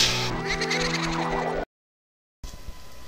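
A horse whinnies loudly with a shrill, wavering neigh in Zelda: Ocarina of Time, followed by a sudden dropout of silence and then faint background game sounds.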